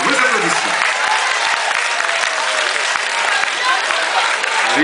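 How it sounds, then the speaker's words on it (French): A crowd claps loudly and continuously at a ceremony electing the 2013 senior queen in Le Moule, dense applause close and sustained throughout. "Les applaudissements, vos applaudissements."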